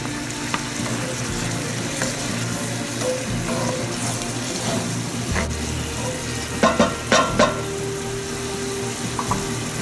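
Onions and garlic sizzle steadily in a hot pan for a Moroccan chermoula kingfish dish, a continuous frying hiss with a few sharp clatters of stirring near the end, no talk.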